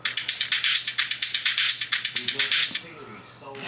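An atmospheric background loop for drums, run through a stereo sample delay, pulses in a fast regular rhythm of bright, airy hits for about three seconds, then thins into a softer, fluttering wash.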